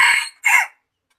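A chicken crows in two bursts with a short gap between them, close and fairly loud, cutting off into silence afterward.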